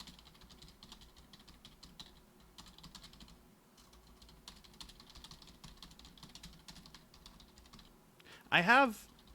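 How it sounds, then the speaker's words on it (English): Typing on a computer keyboard, a newer and quieter one, heard as a soft steady patter of keystrokes close to the microphone, ending with a brief louder sound. "I'm using not my old keyboard, and it might be a little less loud in terms of, like, picking up on the microphone."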